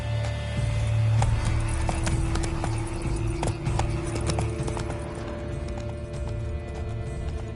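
Roach the horse galloping in The Witcher 3, with steady rapid hoofbeats and clip-clop over continuous game ambience, close and clear with no talking.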